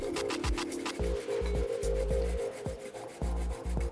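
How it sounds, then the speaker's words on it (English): Garlic and ginger grated by hand, close rasping strokes in an irregular rhythm with soft knocks between them, no talking. "I will grate some garlic,"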